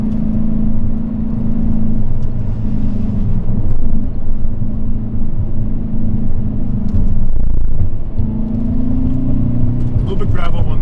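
A 2020 Hyundai Veloster N coasts downhill on a winding canyon highway, its engine a steady low drone with road rumble running continuously from inside the cabin, rising slightly near the end, while a driver talks over it.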